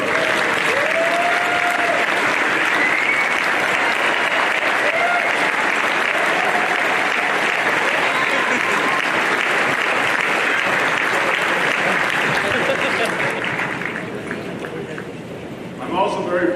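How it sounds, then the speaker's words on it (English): A large graduation audience applauds the parents in a long, dense, steady roar of clapping that fills the hall, then thins and fades toward the end. "please join me in a round of applause to thank them"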